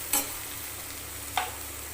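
Okra fries dry in a pan under a faint steady sizzle, broken twice by sharp scraping stirs of a spatula, close up with no talking.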